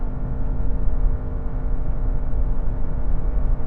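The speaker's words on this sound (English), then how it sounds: "So a bit of wheel spin from the front wheels because it's front-wheel drive" A Honda CR-V accelerates hard in sport mode with front wheels spinning, a steady loud engine drone and road roar from inside the cabin, continuous and without voices.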